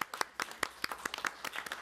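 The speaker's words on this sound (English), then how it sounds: "That's going to give a round of applause for your presentation." A small group at a city council meeting claps in sparse, separate hand strikes, close and uneven, a handful of people rather than a full room.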